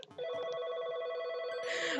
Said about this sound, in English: Let's just listen to the music of the phone ringing.